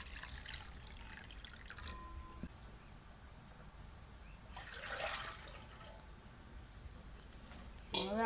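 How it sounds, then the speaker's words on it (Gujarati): Water runs briefly into a brass cooking pot tinned inside, a soft near pour that swells for about a second in quiet village kitchen surroundings. "તો હવે આપણે આ તપેલી ભરીને પાણી મૂકી દઈએ"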